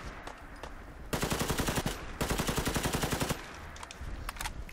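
An AK400 assault rifle in Fallout 4 fires two long, rapid full-auto bursts of loud, evenly spaced shots. A few scattered single cracks come before and after the bursts.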